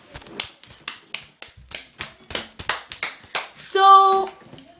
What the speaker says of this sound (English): And again, give another round of applause for Louie.